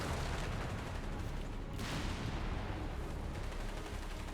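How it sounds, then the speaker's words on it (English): Bazooka fire from a building in a Company of Heroes 3 battle: dense, continuous battlefield gunfire and heavy booming, loud and sustained, with one sharp blast near the middle. "Gonna get some bazooka shots from the building."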